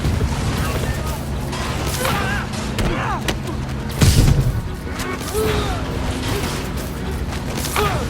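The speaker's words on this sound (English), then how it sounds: "Why is everyone shooting rockets all of a sudden?" Rockets firing and exploding in the PS5 Marvel's Spider-Man Remastered game, with a dense busy mix of whooshes, mechanical clatter and a heavy boom near the middle, over steady game noise and intermittent voices.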